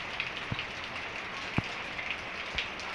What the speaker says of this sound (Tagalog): Okay lang ba yung ulan na yan para sa kubo?